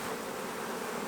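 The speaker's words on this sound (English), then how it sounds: "So we've got lots of bees in there." Honey bees hum inside an opened hive, a steady dense buzzing swarm sound heard close and fairly faint, with no talking.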